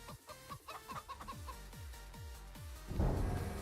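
Chickens cluck in Farming Simulator 25, a quick run of short, repeated clucks at a steady rhythm, fairly faint, followed by a louder burst of rustling noise near the end.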